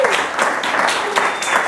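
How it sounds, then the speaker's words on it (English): Conference audience applauding, a short burst of dense, steady clapping filling the room from start to finish without talk. "let's give that a big round of applause"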